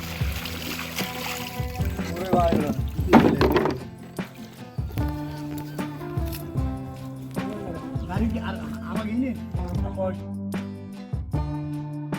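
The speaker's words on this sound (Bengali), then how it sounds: "কাজল দাদা আমাদের নৌকা বাইছে" A wooden fishing boat rowed along a river in Bangladesh while nets are checked for shrimp, with knocking oar strokes and water splashes close by under steady talking voices.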